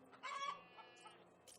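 A chicken clucks in the animal rescue video game Animal Rescuer, a short, faint burst of fowl calls over quiet background, with a voice faintly present.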